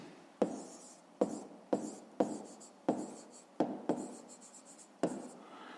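A pen writes on paper in short scratchy strokes, about eight distinct bursts each starting with a tap, close and quiet, with no talk during a fifth-grade maths exercise.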